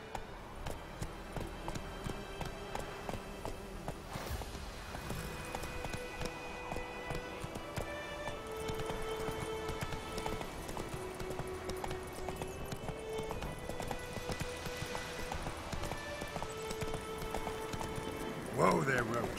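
Roach, the horse from The Witcher 3, gallops with steady, rhythmic clip-clopping hooves that run through the whole passage under game music and ambient sound, a brief louder burst near the end.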